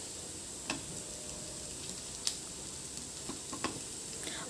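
Cucumber thalipeeth fries in oil in a pan with a steady soft sizzle, broken by a few sharp clicks and scrapes as the pieces are flipped.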